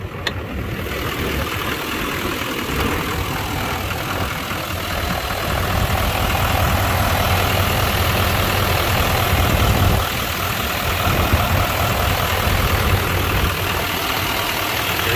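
A GMC Sierra 3500HD Z71 with a 6.6 liter Duramax diesel idles with its hood open, a steady, loud, close rumble with a constant low drone that holds evenly throughout.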